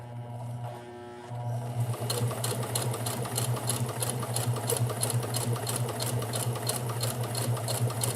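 A sewing machine runs steadily at a slow pace, its needle tapping in an even rhythmic pattern over a constant motor hum, close and alone after a brief quieter start.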